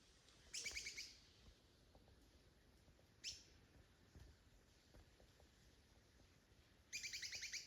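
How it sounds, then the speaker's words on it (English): Bright, twittering bird calls in short bursts near a waterfall, one near the start and one near the end, with a brief chirp between over a faint, quiet outdoor background. "You can only hear the birds singing and the sound of the leaves rustling in the"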